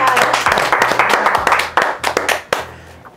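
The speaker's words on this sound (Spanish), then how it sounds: "Un aplauso, por favor," Audience applause on a televised singing competition, a burst of fairly close, uneven hand claps with distinct individual slaps and a voice breaking in over the clapping as it thins out.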